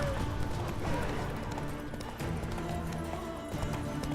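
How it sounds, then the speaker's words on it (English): A panicky horse gallops in The Witcher 3: Wild Hunt, with continuous clip-clop hoofbeats and some whinnying over busy combat noise, running steadily for several seconds. "my horse is getting really panicky here"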